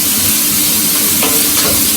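Onion and garlic cooking in oil in a pan make a steady, loud sizzle and hiss that runs the whole time, with faint stirring scrapes and no voices.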